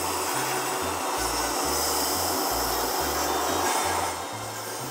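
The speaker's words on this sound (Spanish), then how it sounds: "ahí lo vamos a dejar que se empiece a licuar" Hummus blending in a kitchen blender, a loud, steady whirring motor roar with a low, lumpy churning pulse underneath that lasts the whole time and eases slightly near the end.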